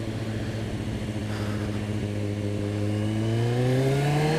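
A Kawasaki ZX14 motorcycle engine rises steadily in pitch as the throttle opens, a loud continuous revving drone heard close up from the rider's position.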